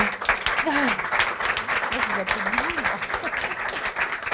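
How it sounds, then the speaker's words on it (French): Audience applause at a French-language round table on moving from a culture of control to one of trust: a steady patter of many clapping hands with a voice speaking over it throughout. "Je vous demande de les applaudir très fort déjà pour ce partage"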